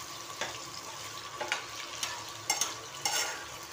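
Brinjal pieces frying in oil, a soft steady sizzle broken by several light stirring scrapes and taps of a spoon against the pan, close but fairly quiet.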